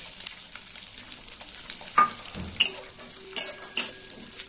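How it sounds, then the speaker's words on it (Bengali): Cashews and raisins frying in hot ghee in a pan, a steady close crackling sizzle with occasional sharper pops and stirring clinks, no talking. "কাজু আর কিশমিশ ভেজে নেব"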